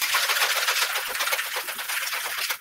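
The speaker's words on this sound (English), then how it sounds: "And then we're gonna shake." A cocktail of vodka, Baileys Irish cream, Kahlua and milk is shaken with ice in a shaker, a steady, rapid rattling and sloshing for a few seconds, close and alone.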